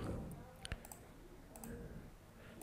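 A computer mouse clicks a few times in quick succession, crisp and close, amid low room noise.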